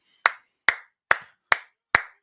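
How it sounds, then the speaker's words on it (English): Five crisp, evenly spaced hand claps ring out up close against near silence. "Clap it up for the squad"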